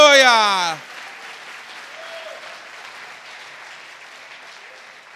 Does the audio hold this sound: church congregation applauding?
yes